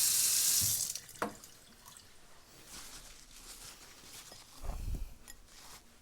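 Running tap water splashes into a sink as a peeled yam is rinsed, starting with a loud burst of flow that cuts off after about a second, followed by quieter handling sounds and a brief low thump near the end.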